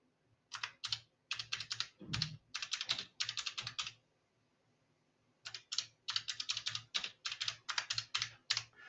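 Rapid clicking keystrokes on a computer keyboard while entering Excel spreadsheet text, two quiet close bursts of typing separated by a pause of near silence, with one duller thump among the keys.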